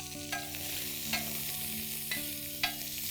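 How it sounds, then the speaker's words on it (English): Chopped onions fry in regular vegetable oil on a hot tawa, a close, steady sizzle with a few sharp scraping stirs at regular intervals and no voices. "Now this is regular vegetable oil followed by chopped onions."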